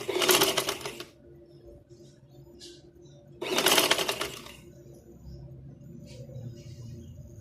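Two short, loud bursts of a sewing machine stitching gum lace into a garment neckline, each about a second long, separated by quieter pauses with faint background sounds.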